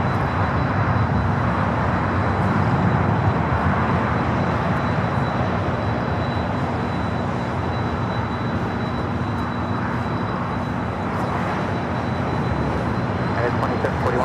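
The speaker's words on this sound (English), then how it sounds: "You can hear that 767 on Kilo heading here to the south side." A Boeing 767 jet taxis along a taxiway at LAX, its engines giving a steady mid-level whine and rumble with a faint high tone, continuous throughout beneath talk.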